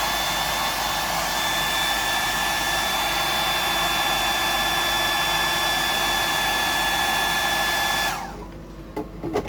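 A hair dryer blows steadily at close range while drying paint on a patterned project, a loud continuous whir that cuts off near the end.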